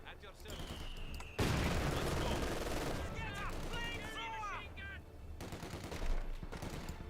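Machine gun fire and explosions in the World War II strategy game Company of Heroes 2, with a sudden loud burst of gunfire followed by sustained combat noise and chirping sound effects.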